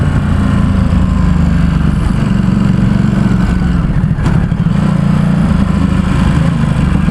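A 2017 Ducati SuperSport S runs steadily on a road ride near San Francisco, its engine a loud, constant drone with a smooth, unbroken tone throughout.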